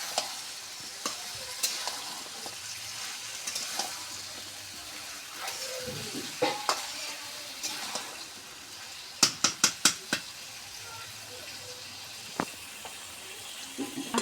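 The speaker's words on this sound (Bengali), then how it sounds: "মশলার সাথে আগে কষে নিব" Rui fish sautés in a pan with spices, hissing softly under repeated spatula scrapes and clinks. A quick cluster of sharp metallic taps comes midway, with scattered knocks before and after.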